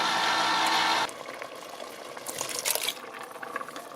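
Canned seasoned turnip greens with their juice slosh out into a cooking pot, a steady loud pour for about a second followed by wet splashing and gurgling settling, with no talk.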